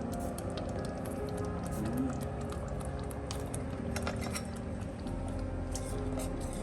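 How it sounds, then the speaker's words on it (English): Salna curry boiling in a pot, a dense steady bubbling and sputtering that stays close and even throughout, with faint clinks and no talk. "Our salna is boiling."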